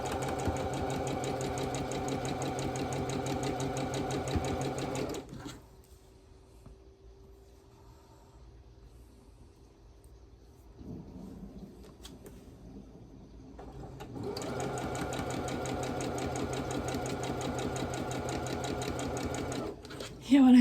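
Home sewing machine with a very sensitive foot pedal, used to sew a quilt block, running in two sustained loud bursts with a quiet pause between them while someone talks.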